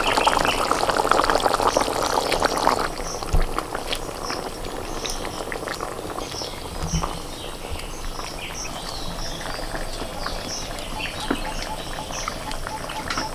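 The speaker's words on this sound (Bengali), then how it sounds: "আলু সিদ্ধ হয়ে গেছে এবার ভাজা মোচার বড়াগুলোকে দিয়ে দিচ্ছি" Potato curry simmers after fried banana-flower fritters go into the pan, giving a steady, close bubbling hiss with a few soft clinks near the start and no voices.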